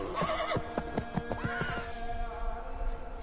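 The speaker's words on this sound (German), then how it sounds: "das waren unsere Pferde." Horses in the video game Assassin's Creed III neigh and whinny in a snowy setting, with several rising and falling calls and faint hoof sounds, heard alone and fairly close.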